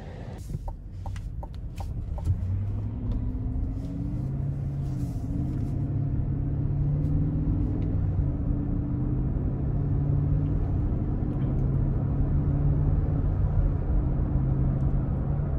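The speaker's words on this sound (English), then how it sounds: "now it's time we go ahead and take this 2022 Yukon XL out on the road for a quick test drive" A 2022 GMC Yukon XL SLT with the 5.3 liter engine driving on the road, heard from inside as a steady low rumble with engine tones rising and shifting, a few clicks at the start.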